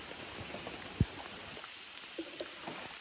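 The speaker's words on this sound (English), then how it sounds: "We're just standing in the rain." Rain falls steadily at a lakeside campsite on Putnam Pond in New York's Adirondacks, a soft, even hiss with a few louder drops tapping close by. No one speaks.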